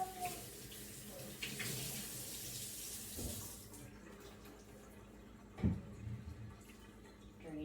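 Warm water running from a kitchen tap over a sourdough starter jar, a rushing stream for about four seconds that then stops, followed by a few quiet knocks and a clunk.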